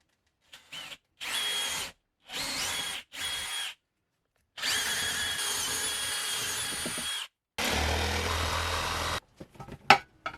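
A power drill whirs in several bursts: short on-off pulses, then two longer sustained runs, close and fairly loud, with no speech.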